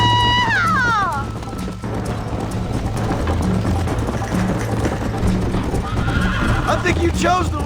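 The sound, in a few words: horse neighing and galloping in video game Red Dead Redemption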